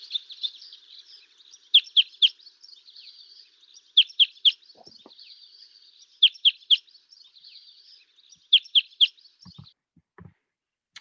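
Recorded calls of a type 2 winter finch, likely a crossbill type: repeated groups of two or three sharp chirps over a steady high twittering, clear and alone, with a few soft low thumps near the end.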